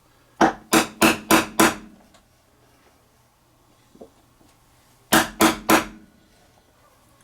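Chisel work chipping out a notch in a wooden floor joist for a scale log cabin model: five quick sharp strikes in a row, a pause, then three more close, crisp knocks.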